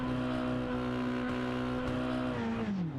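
A racing truck doing a burnout at Daytona in the iRacing simulator, its engine held at high revs in a loud, steady buzzing drone that sags and drops in pitch near the end, with no one talking.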